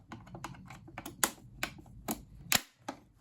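Sharp plastic clicks and snaps from prying tabs apart on a Krups Nescafe Dolce Gusto Oblo KP110 coffee machine during a teardown, several close, dry cracks spread unevenly over a few seconds, the loudest near the middle and end.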